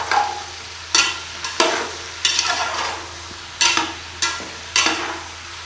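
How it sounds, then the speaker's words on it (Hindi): Bottle gourd sautéing in oil and masala, a continuous sizzle broken by about eight sharp, regular stirring scrapes of a spoon against the pan, close and without talk. "अब इसको जो है, कद्दू को जो है 2 मिनट तक मैं इसके अंदर इसकी भुनाई करूँगा"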